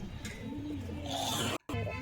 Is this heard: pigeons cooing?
yes